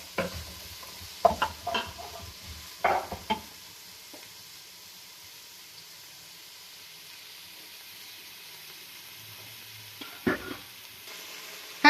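Onions browning in a hot pan sizzle steadily, with a few scraping stirs near the start and again near the end.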